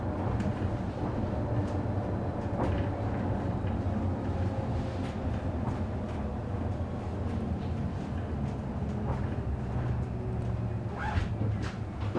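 A train arriving at Zermatt station in Switzerland, a steady rumbling run of wheels and carriage noise with low mechanical drone, occasional clanks and squeals, continuous and moderately close throughout.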